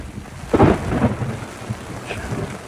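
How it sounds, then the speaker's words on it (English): Heavy rain pours down during a thunderstorm while overlanding in Namibia, with deep rumbling thunder swelling loudly over a steady downpour and no voices. "This is proper rain and a proper thunderstorm that's going on here."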